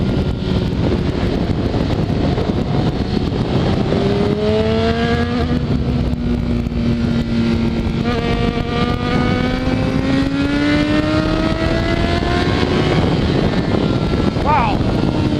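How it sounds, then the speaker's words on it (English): A Honda CBR600RR motorcycle rolls along in third gear, its engine note climbing in smooth, linear sweeps under steady wind roar, with a rider talking over it. "I'm rolling right now in third gear, and the power delivery is very linear,"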